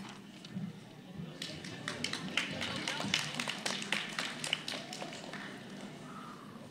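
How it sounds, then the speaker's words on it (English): Quiet, scattered applause for student poets at a grade 9/10 spoken word competition, with a few seconds of light, uneven claps from a small audience heard at some distance. "Let's applaud the poets, not the points"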